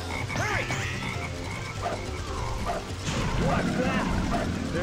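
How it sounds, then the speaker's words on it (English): Low, repeated frog croaks from a black frog in a Sonic video game, mixed with yipping, dog-like game sounds and a busy music and effects bed; people talk over it throughout. "There's that black frog again!"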